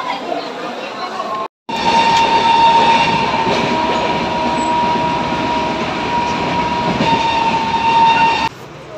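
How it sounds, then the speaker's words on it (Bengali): A train rolls past at Howrah station, a loud, steady rumble of rail cars with a sustained tonal whine running for about seven seconds after a brief cut, with station voices mixed in. "আর ওই যে ট্রেন যাচ্ছে।"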